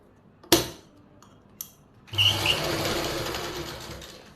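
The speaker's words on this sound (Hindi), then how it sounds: "बिल्कुल किनारे से सिलाई लगा देंगे।" A sewing machine stitches along the belt edge of a palazzo pant, a steady close whir starting after a couple of sharp handling clicks and running on to the end.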